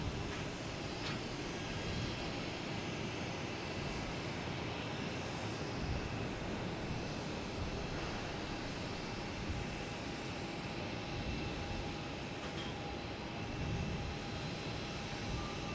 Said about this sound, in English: Next taking off is Southwest 737 MAX 8, heading to Nashville.